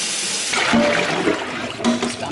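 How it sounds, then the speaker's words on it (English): Water rushes and splashes steadily as cooked noodles for chicken and shrimp chow mein are drained, a loud continuous pour with a few sharper spills. "so I'm draining these noodles, and I'm going to immediately put it in a cold bath"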